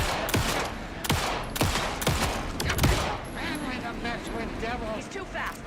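Gunshots ring out in Alan Wake 2, a handful of sharp, loud shots fired in quick succession at close range, followed by quieter game sounds and someone talking.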